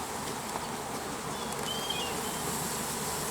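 Honey bees humming steadily at an open hive during a swarm check, a continuous close buzz filling the whole moment with no talking.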